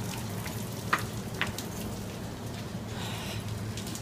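Rain falls outside as a faint, steady hiss of drops hitting surfaces, with a couple of brief louder ticks and no voices.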